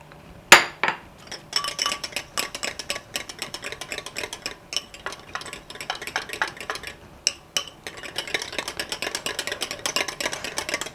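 Utensil clinking and tapping against a bowl while salt and black pepper are stirred into an oats and egg omelette batter, with rapid, uneven strokes, one sharp knock near the start, then steady mixing that speeds up toward the end.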